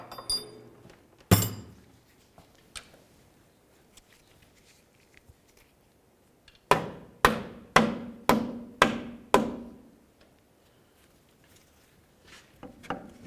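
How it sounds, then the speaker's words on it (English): A rubber mallet drives a front lower control arm into the frame of a 2000–2005 Buick LeSabre: one isolated sharp knock, then a quick run of six evenly spaced, ringing bonks, close and loud in an otherwise quiet garage. "Sometimes you just have to give it a loving bonk with a rubber mallet just to drive it into position."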